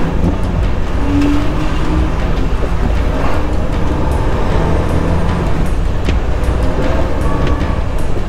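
A truck pulling a trailer ploughs through ridiculously deep flood water on the road, a loud, dense, steady rush of water and engine rumble that never lets up.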